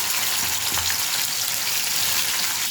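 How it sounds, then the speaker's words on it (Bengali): Fish fried one by one in hot mustard oil in a wok, a steady loud sizzle and crackle throughout, alone with no talking. "এবার মাছগুলো একটা একটা করে দিয়ে ভেজে নেব।"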